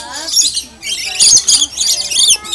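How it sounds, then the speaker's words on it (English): A pet bird perched on a person's shoulder squawks and chirps loudly and close, in repeated harsh bursts, while people talk nearby. "Hey, Josh, you got a bird on your shoulder."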